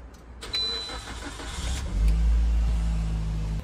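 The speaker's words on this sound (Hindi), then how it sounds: "पाँच मिनट तक मैंने कोल्ड स्टार्ट रखा है गाड़ी को" A car engine cold-starting after an overnight resort stay on a road trip: it catches with a rising burst, then settles into a loud, steady low idle hum, with nobody speaking.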